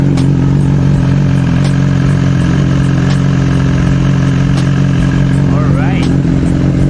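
A BMW S1000XR motorcycle engine, suffering a loud ticking fault, idles loudly and close on its first start, a steady rumble with faint periodic ticks and a short whine near the end.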